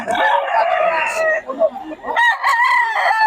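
Roosters crow loudly and close at a chicken market in Bocaue, two long cock-a-doodle-doo calls separated by a short pause, with clucking and market voices faintly around them.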